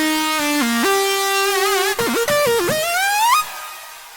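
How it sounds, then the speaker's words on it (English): A distorted saw synth with reverb plays a loud, buzzy, bright line alone, gliding and bending in pitch with quick dips and a rising sweep before cutting off. "Here's a interesting take on a saw synth."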